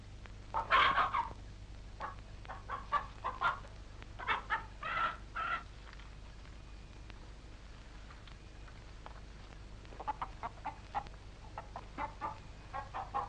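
A hen, the only egg-layer in a small rural flock, clucks in short irregular bursts, some close and loud, others softer, with pauses between the calls and no talk.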